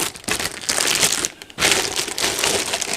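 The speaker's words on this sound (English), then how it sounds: "How do I get this bag open?" A plastic bag holding tech accessories such as cables crinkles and crunches loudly up close as hands work at opening it, with a short pause midway before the rustling resumes.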